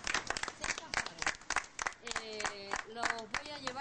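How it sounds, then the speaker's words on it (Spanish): Scattered clapping from a small gathering in Lota, Chile, after an earthquake, sounding close and uneven, with someone talking over it the whole time. "yo le quiero brindar en estos momentos un fuerte aplauso a ellos"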